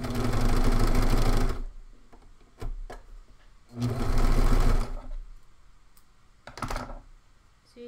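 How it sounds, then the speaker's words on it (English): A Singer serger overlocker, newly rethreaded with its upper looper timing fixed, runs in two long loud bursts of steady rapid stitching, with brief clicks and a shorter run between them. "now that I've re-threaded the machine and chained off, I have been testing the stitching to make sure that it's correct"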